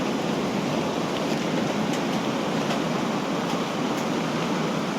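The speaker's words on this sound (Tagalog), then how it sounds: "Ang lakas na ng alon." Steady, dense rush of ocean surf at high tide, a constant broad wash of crashing waves with faint crackles on top, no voices.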